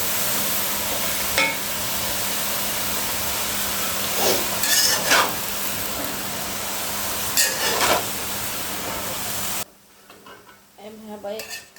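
Water lilies (shapla) frying in a pan, with a steady sizzle and a few sharp scrapes and clanks of a utensil as the pieces are stirred and flipped, then sudden near silence as the pan is covered.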